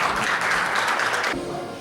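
A crowd at a corporate awards ceremony claps steadily, a dense wash of applause that cuts off abruptly near the end.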